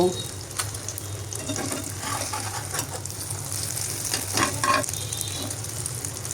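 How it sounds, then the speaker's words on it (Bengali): Beaten egg frying spread thin in a pan, a steady sizzle with scraping and stirring clatter, while a voice talks intermittently. "এই তো ডিমটা আমি একদম ছড়িয়ে ভাজ করে ভেজে নিব"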